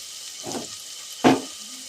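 Ground mudavattukal root paste sautéed in a pan with onion and tomato makes two short bursts of stirring and sizzling, the second louder, over a quiet background.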